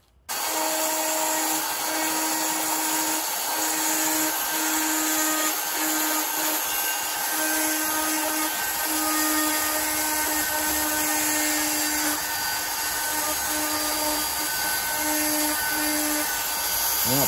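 A power carver with a tiny cylinder bit works into found wood for a Santa figure, a high steady whine that runs nearly unbroken and close up, its pitch dipping slightly as the bit bites.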